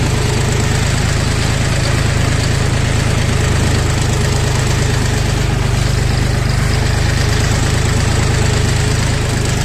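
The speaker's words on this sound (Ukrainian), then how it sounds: "пускаємо, попереключали передачі, повишена, повижена, і так ми їдемо на першій передачі" A JINMA JMT 3244HSX mini tractor engine runs steadily while the tractor drives in first gear, giving a loud, continuous, even drone with a low rumble that holds throughout, and no voices are heard.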